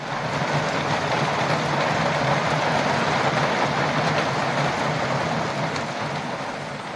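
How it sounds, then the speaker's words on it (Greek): Torrential rain pours down in a heavy downpour in Rethymno, a dense, steady roar of water that stays loud and unbroken throughout, with no voices. "Δυνατό μπουρίνι με καταρακτώδη βροχή στο Ρέθυμνο"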